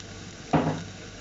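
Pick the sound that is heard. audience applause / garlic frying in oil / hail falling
garlic frying in oil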